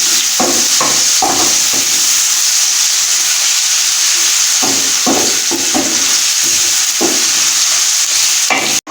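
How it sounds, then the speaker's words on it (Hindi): Garlic ginger paste and onions frying golden brown in a pan for an aloo baingan sabzi, a loud, steady sizzle throughout, broken by repeated scraping stirs of a spoon, with no talking. "देखें लहसुन अदरक का पेस्ट जो है और प्याज गोल्डन ब्राउन हो चुके हैं।"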